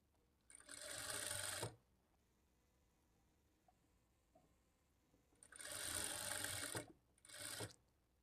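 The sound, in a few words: sewing machine stitching blouse side seam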